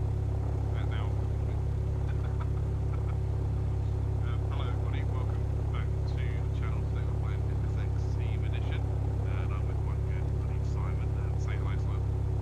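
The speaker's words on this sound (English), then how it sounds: "We're currently just taxiing out to runway 27 at East Midlands Airport" An M20T light aircraft taxis toward runway 27 at East Midlands Airport in FSX, its engine a steady, close, low drone throughout, with faint voice chatter over it.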